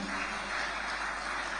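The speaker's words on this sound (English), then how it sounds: "Can we hear the applause for Lekki Ports?" An audience at a live morning event applauds for a sponsor, a short burst of steady, fairly loud clapping from many hands, with no talk over it.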